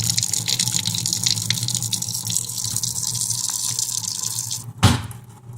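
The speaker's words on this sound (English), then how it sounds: "So you turn the water on." Tap water rushes steadily and loudly as a water filter is flushed, a continuous close gushing broken near the end by a brief clunk before the flow eases slightly.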